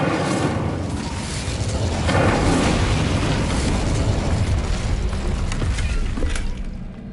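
The Incendio fire spell in the video game Hogwarts Legacy produces a loud, sustained roaring burst of flame that swells and then fades toward the end, with no talking.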